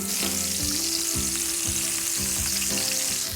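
Cheese and game meat fry in a pan with a steady, loud, close sizzle throughout, broken by a few soft clacks from a utensil.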